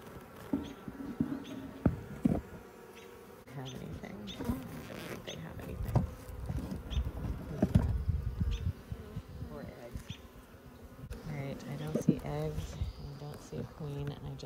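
Honeybees buzz around an open hive during a summer hive check, a steady close hum running throughout, with occasional taps and handling noises and a person talking over it.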